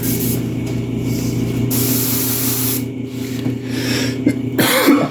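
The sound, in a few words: coughing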